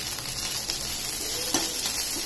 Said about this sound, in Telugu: ఇవి ఇలా గోల్డెన్ బ్రౌన్ వచ్చినంత వరకు ఫ్రై చేసుకోవాలి